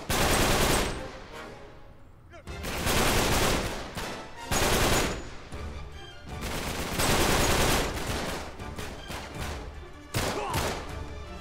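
Rapid machine-gun bursts in the Uncharted 3 Drake's Deception Remastered video game, loud and repeated in several dense volleys with brief gaps between them and no talk over the firing.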